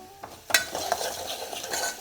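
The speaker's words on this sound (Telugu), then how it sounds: "ఒక రెండు నిమిషాలు చక్కగా వేగనీయాలి" A soft sizzle of tomato rasam tempering frying in a pan, with a few stirring scrapes and clinks, close and fairly quiet.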